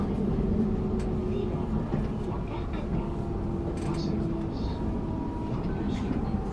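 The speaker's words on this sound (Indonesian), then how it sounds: "Sesaat lagi kereta yang kita naiki akan tiba di tujuan, yaitu di stasiun Bukit Mas." Passenger train pulling into Pasir Mas station in Malaysia, a steady low rumble and rolling rattle of the railcar continuing throughout, with people talking over it.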